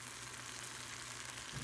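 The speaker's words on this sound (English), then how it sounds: "I'm just stir frying some fresh Brussels sprouts" Fresh Brussels sprouts stir-frying in a pan give off a steady, soft sizzle with a faint low hum beneath, continuous and fairly quiet throughout.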